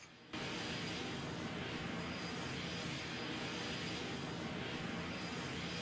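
Four jet engines of an Antonov An-124 cargo plane in Roblox Aeronautica roar as a continuous, even, broadband drone that sets in abruptly and holds steady and loud throughout, with no voices.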